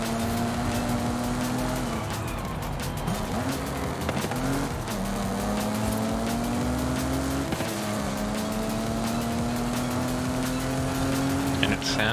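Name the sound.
car engine racing in video game Forza Horizon 5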